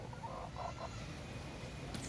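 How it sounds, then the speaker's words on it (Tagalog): Soft, brief clucks from a hen come in a short cluster near the start, followed by quiet background noise. "Ito naman yung aming babaeng manok."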